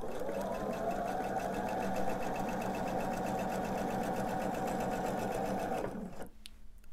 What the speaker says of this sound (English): And we're just going to sew right along here.